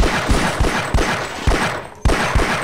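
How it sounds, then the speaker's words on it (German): Rapid gunshots from Half-Life, a string of sharp, close, loud reports in an uneven rhythm, roughly five or six shots with a short pause near the end. "Ich schieß nur vorbei."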